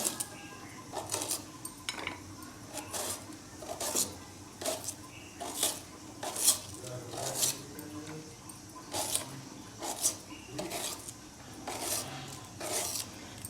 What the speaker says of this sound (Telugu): పప్పులోకి మనం మామిడికాయ ముక్కలు అయితే ఇలా కట్ చేసుకోవాలన్నమాట.